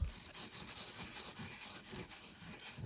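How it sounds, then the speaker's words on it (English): Super fine steel wool scrubbing a small enamelled metal Mobil Oil pin: steady, soft, close-up rubbing strokes forming a continuous fine scratchy hiss for a few seconds, alone without talk. "I'm using a super fine steel wool."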